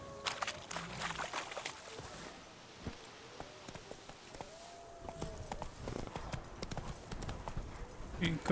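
Hooves of Roach, the horse in The Witcher 3, clop in a quick running rhythm on hard ground, close and clear, with a couple of pauses and game sounds mixed around them.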